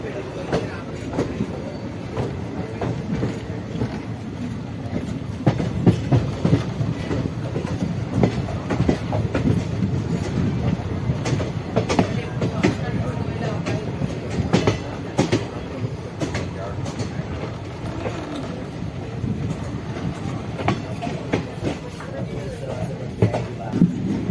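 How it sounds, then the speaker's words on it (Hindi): The 17603 Kacheguda–Yelahanka Prashanthi Nilayam Express pulls into platform 3 at Yelahanka Junction with a steady, close rumble of wheels and irregular clattering throughout. Voices murmur underneath. "गाइस हमारा ट्रेन पहुंच रहा है प्लेटफॉर्म नंबर 3 पे, यलहंका के प्लेटफॉर्म 3 पे।"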